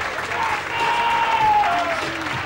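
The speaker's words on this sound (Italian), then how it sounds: "un applauso ancora a tutte queste ragazze stupende" Applause from an audience at a 1999 Miss Graticolato Romano beauty pageant, steady clapping filling the hall for about two seconds while a faint tonal whistle or feedback line drifts through.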